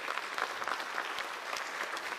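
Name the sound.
audience applause for a retiree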